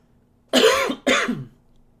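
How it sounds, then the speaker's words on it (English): Two harsh coughs in quick succession, close and loud, with a brief pause between them and quiet afterward. "I'm going to keep coughing."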